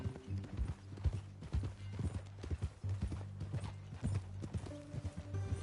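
Horse hooves clip-clop on the ground in the Western video game Red Dead Redemption 2, a close, steady walking rhythm of distinct knocks with a low rumbling background.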